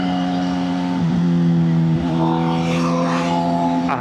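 A custom Suzuki GSX-R 750 motorcycle engine drones loudly and steadily on a test ride, its tone dipping and rising through a couple of gear or throttle changes, with a hint of passing traffic.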